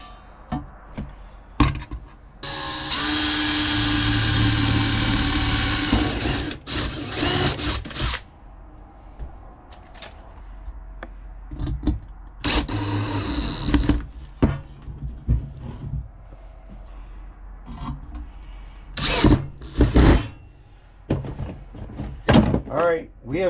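A power drill driving in to secure a metal piece to a hardwood form, with a sustained loud whir followed by shorter bursts, clunks and knocks, and talking in between.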